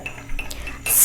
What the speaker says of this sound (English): Stir until the sugar dissolves.